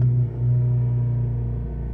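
A Ford Focus engine holds a steady, loud droning rumble with the brake and throttle both pressed fully down during home transmission control module programming, a constant low hum that barely changes throughout.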